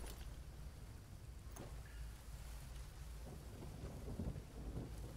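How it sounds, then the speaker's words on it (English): A thunderstorm in the Green Hell video game brings a continuous low rumble of thunder over steady rain, a faint, even wash with a few soft cracks. "I hear the thunderstorm."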